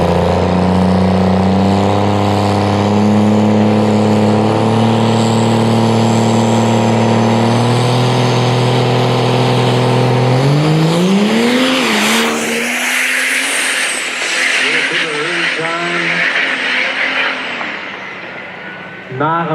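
Chris Patterson's diesel drag truck roars through a full-throttle pass at a truck drag event, a loud sustained engine drone rising in pitch as it accelerates, then fading into crowd noise and a commentator's voice.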